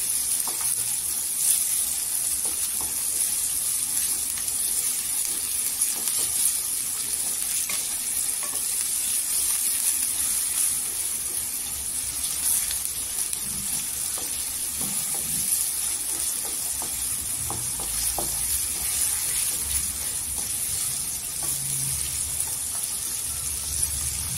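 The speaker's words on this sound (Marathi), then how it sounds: "तेलावर छान असं परतून घ्यायचं, गोल्डन कलरवर करून घ्यायचं." Two to three onions sautéing in hot oil in a pan until golden for chole masala, a continuous close sizzle and crackle with occasional stirring, steady throughout and without speech.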